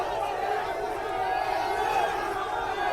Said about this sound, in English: the crowd is kind of forming more into a mob